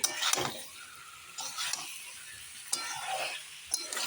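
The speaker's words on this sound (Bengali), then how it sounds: "মশলার সাথে ফুলকপিগুলো একটু কষিয়ে নিচ্ছি" Soaked cauliflower is stirred with spices in a hot pan, a faint sizzle punctuated by four distinct spatula scrapes and clinks at a slow, irregular pace, close and without speech.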